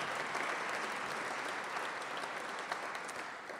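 Loud, sustained applause fills the room at a corporate eco forum award dinner, a dense crowd clapping steadily at even strength before easing slightly at the end.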